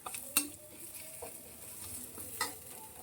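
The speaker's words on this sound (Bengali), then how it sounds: "পেঁয়াজটা হালকা করে ভেজে নিল" Onions fry quietly in a home kitchen pan, a faint sizzle broken by a few sharp clinks and scrapes of a spoon stirring against the metal.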